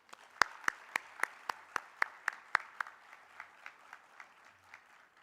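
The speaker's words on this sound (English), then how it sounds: "Let us give a big round of applause to him." Applause for a welcomed guest at a 50-year celebration event, heard as about ten sharp, evenly spaced claps through the first three seconds, then fading into softer scattered clapping.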